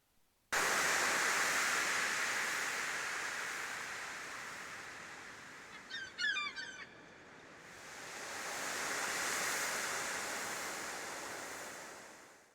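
Broad rushing surf that swells and recedes like waves on a shore, with a brief burst of honking bird calls in the middle, from the video game Stardew Valley.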